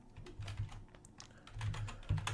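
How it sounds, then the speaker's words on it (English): Quick, light tapping on a computer keyboard, a rapid irregular run of close keystrokes with no voices. "I'm gonna type in Instagram growth, super fast organic Instagram growth"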